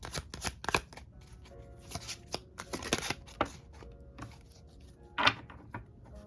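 A tarot deck is shuffled by hand in soft, irregular riffles and taps, quiet and close, with a sharper flurry near the end.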